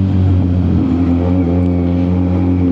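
Motorcycle nicknamed Zina revving while being ridden, a loud, close engine drone with a strong low rumble and steady rhythmic firing, continuous throughout the short stretch.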